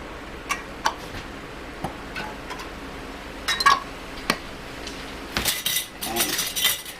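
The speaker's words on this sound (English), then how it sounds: "I'm going to put some lids on here" Metal lids are set onto glass canning jars of coleslaw with radishes. Scattered light metallic clinks and taps sound close by, and the clatter clusters more densely toward the end.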